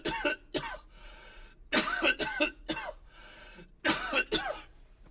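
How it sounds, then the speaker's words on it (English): Two people coughing at once, with several loud, harsh bursts in clusters separated by short pauses, close to the mic. "Me and Dad are both coughing at the same time."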